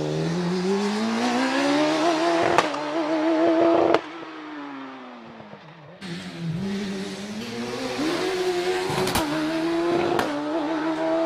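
A PCD Saxon race car, designed by an ex-F1 designer, climbs the Prescott championship hill climb, its engine revving hard through repeated gear changes with sharp pitch drops between pulls, loud and close throughout.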